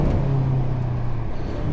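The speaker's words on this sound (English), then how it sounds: "I'm happy with how the car sounds." BMW M5 Competition engine heard from inside while driving, a steady low drone with a sustained tone that holds level throughout, close and fairly loud, no talking.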